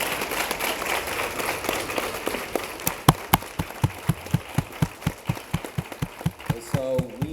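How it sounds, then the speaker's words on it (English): An audience at a real estate professionals' event claims a small round of applause, with scattered claps that settle into a slow, steady rhythm of single claps, moderately loud, with some talking underneath. "let's give them a round of applause"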